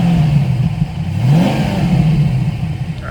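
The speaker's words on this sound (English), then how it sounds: "if this car doesn't make you want to love like V8s, I don't know what. It just makes a phenomenal noise" A V8 car engine revs up hard past 3,000 RPM, a loud rising growl that climbs in pitch and then holds at a steady roar, close and alone.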